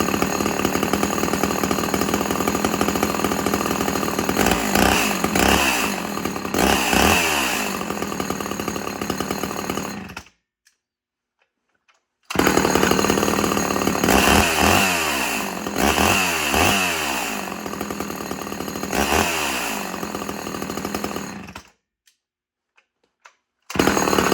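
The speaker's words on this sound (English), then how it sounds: "I really love this thing a lot because it fires up one pull" A Homelite Super XL chainsaw fitted with a quiet muffler and heat shield runs close and loud, revving up and down in bursts, with two short silent gaps between passes.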